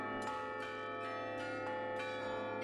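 Carillon bells ringing from the top of a belfry, a dense cluster of resonant metallic tones with new strikes landing every half second or so over a sustained ringing wash, with no voices.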